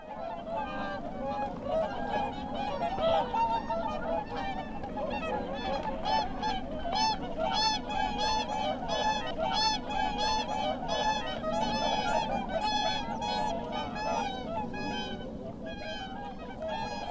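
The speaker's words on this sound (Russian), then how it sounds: "Потом лебеди кричат." Swans in a marsh call loudly and continuously, many overlapping honking cries forming a dense chorus that persists throughout over a steady low background hum.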